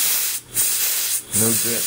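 Steam from a boiler built from an artillery shell hisses in two broad bursts separated by brief pauses, with a voice speaking over the tail end.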